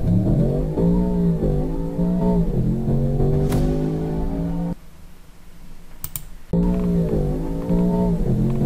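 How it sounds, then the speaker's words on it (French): A Range Rover Sport SV with 635 hp accelerates hard, its engine note climbing through gears in rising harmonic sweeps, dropping briefly at a shift with a few clicks, then roaring up again, loud and close from inside the car. "On va se voir une petite accélération pour voir un peu ce que ça rend"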